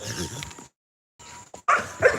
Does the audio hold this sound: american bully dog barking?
yes